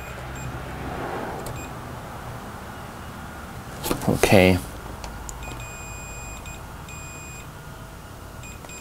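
A multimeter on continuity test beeps while probing a Journey arcade monitor board: several short, steady electronic tones repeat at close range after a brief spoken word and a cluster of handling clatter.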